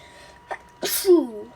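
A Roblox Brookhaven game character sneezes once: a short intake of breath, then a sharp, loud burst that trails into a brief voiced tail.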